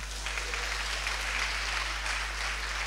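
Church congregation at a Sunday worship service clapping in sustained, dense applause, loud and even from start to finish.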